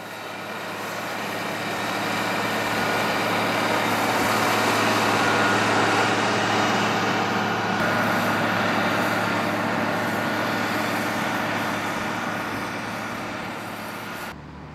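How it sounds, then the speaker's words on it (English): A Caterpillar Challenger 65 rubber-tracked tractor pulling a Simba Mono one-pass cultivator with discs, tines and packer produces a steady diesel drone with broadband rumble, swelling as it approaches and fading away over about fifteen seconds. "It's working here with a Simba Mono one-pass cultivator with discs, tines and packer"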